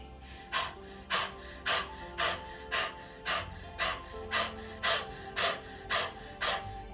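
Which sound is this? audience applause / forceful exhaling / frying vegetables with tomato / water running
forceful exhaling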